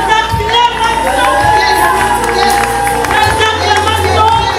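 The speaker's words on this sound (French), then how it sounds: "Elle mérite des acclamations." An audience cheers and claps at a talk on the neuro-cerebral and spiritual system, a dense steady wash of applause and raised voices filling the room loudly throughout.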